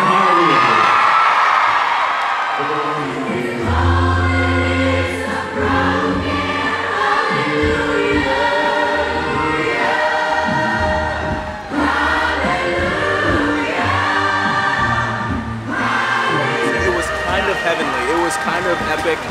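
A loud crowd at a concert on a 2019 world tour screams and cheers continuously, with whoops rising over a dense roar and music-like tones underneath.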